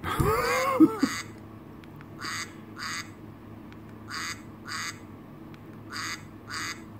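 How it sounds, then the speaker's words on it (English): Duck quacking played by a Cocomelon musical learning watch toy, a burst of electronic sound and then repeated pairs of short quacks spaced evenly across the clip, small and close, with no talking. "Okay, I think it's a duck."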